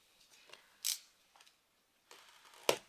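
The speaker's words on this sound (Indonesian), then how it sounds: "Gua akan buka pakai cutter dulu." A cutter knife slicing through the plastic seal on a Rexus KL200 wireless keyboard box, giving a few short, crisp scratchy cuts close up, with quiet gaps between them.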